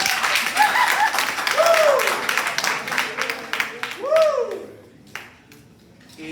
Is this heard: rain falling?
no